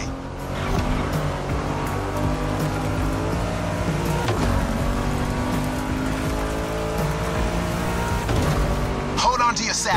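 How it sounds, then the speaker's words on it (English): A Ford Mustang in the racing game The Crew Motorfest drives through a swamp course, its engine droning steadily with bursts of tire squeal and skidding, while a voice talks over it. "Make that Mustang jump like the devil is after it"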